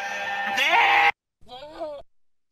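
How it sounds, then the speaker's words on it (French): A goat bleats twice, played back as a sound example: a loud, wavering cry lasting about a second, then a shorter, quieter one after a brief gap, with nothing else around it. "Donc, voilà, ça, c'est une chèvre."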